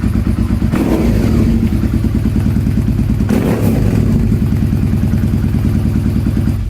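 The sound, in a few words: motorcycle idling with loud exhaust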